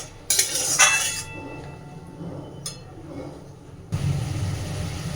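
Spice paste for rui posto being stirred in a cooking pan, with metallic scraping and clinking near the start, a brief clink later and a steady low cooking rumble through the rest.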